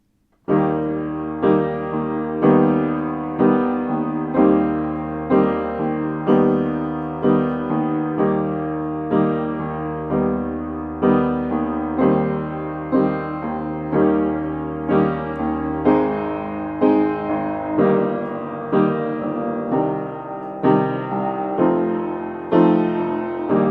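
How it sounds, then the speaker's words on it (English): A full, loud instrumental passage plays with repeated chords and a steady pulsing rhythm over a sustained bass, with no voices. "that instrumental part should sound like this"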